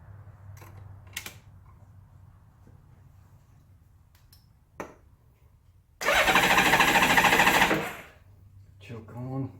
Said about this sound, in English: let's crank her over.